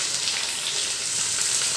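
Chicken pieces and potatoes fry in a pan, giving a dense, bright, continuous sizzle at close range with no voices.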